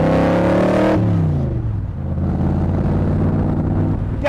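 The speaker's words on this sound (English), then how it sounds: "The engine is a 427 Pond block built by Southern Motors." A 1965 Superformance Cobra with a 427 Pond block V8 built by Southern Motors roars loudly and close, revving high, then dropping into a steady deep rumble as it pulls.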